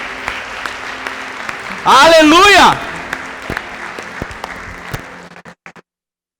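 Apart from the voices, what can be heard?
church congregation applauding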